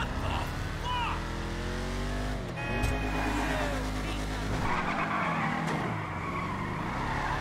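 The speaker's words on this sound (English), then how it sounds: "let's go power slide it." Dom's Charger, a stock muscle car in GTA V, power sliding with screeching tires over a loud, continuous engine roar that dips and surges as the slide is held.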